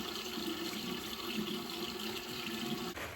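Tap water runs steadily into a sink while face cleanser is rinsed off during an evening skincare routine, a close, continuous splashing rush with no talking.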